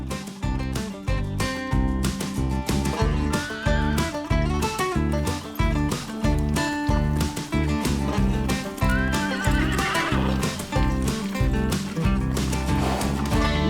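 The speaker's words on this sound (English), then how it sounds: "Ooh, I see some horses over there." Horses at Haney's Tavern neigh and whinny repeatedly over a rhythmic clip-clop of hooves, loud and close throughout.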